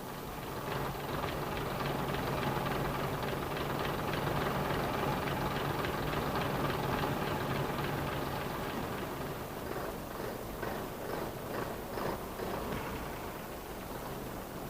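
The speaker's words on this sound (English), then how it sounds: "The throttle must be held open until the engine will run at idling speed." A DMU diesel railcar engine idles steadily after starting, a rumbling, even drone with a faint rhythmic pulse that holds at moderate loudness throughout, with no voices.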